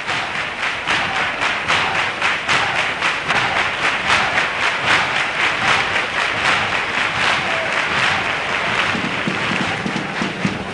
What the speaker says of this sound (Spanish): soporta los aplausos del público